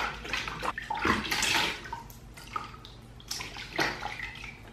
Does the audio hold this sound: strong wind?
no